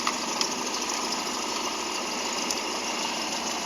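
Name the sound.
running engine checked with a mechanic's stethoscope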